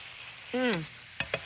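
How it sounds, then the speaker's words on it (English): Cauliflower and green beans stir-fry in a hot pan with a steady low sizzle, interrupted by a brief voiced sound and then a few quick utensil clicks against the pan. "Stir fry our cauliflower."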